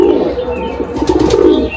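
A Madrasi pigeon coos close by, a low throaty rolling call repeated in a few soft pulses, alone with no talk.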